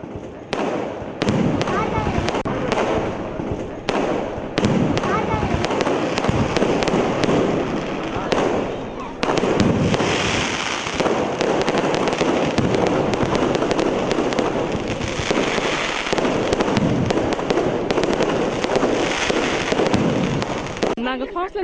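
Fireworks at a French National Day celebration on the beach road in Puducherry pop and crackle in dense, loud bursts that run almost without a break, with crowd voices underneath.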